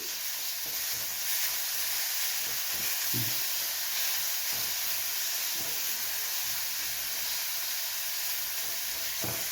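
Grated carrot frying in a pan for carrot halwa, an even, continuous hissing sizzle close up, broken by soft low stirring scrapes and bumps throughout.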